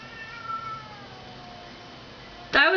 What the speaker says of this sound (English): There's like a cat meowing outside.